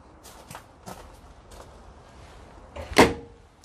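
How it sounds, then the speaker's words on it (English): Rear barn door of a Ford Transit Custom L2 H1 Limited van swinging to its 90-degree stop and locking open, a single sharp clunk near the end after a few soft handling knocks, close by and with no talk. "Now the rear barn doors lock when they're in the 90 degree position"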